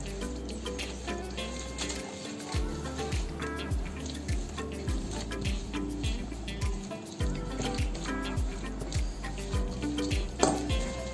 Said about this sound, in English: As you're adding, you're stirring.